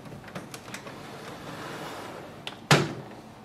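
The front door of an HP Envy Inspire 7220e printer is opened, with faint plastic shuffling building to a single sharp click or clunk near the end over a quiet room.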